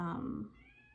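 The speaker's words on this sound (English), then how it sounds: "Sorry if you hear my cat meowing in the background." A cat meows once in the background, a short fairly faint cry that fades away.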